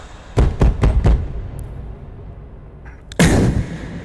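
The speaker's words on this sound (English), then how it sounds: "knock at the door" Four quick knocks on a door, sharp and close, followed after a pause by a single louder thump.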